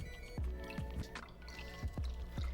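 Bourbon poured slowly over a large ice ball in a rocks glass, giving a few distinct clinks and drips with a soft liquid trickle between them, close and fairly quiet.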